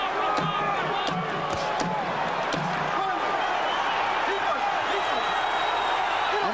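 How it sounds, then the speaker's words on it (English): A boxing arena crowd cheers as it rises at the end of the Holyfield versus Foreman fight, a dense roar with scattered claps and thuds and commentators talking over it. "And the crowd is up on its feet."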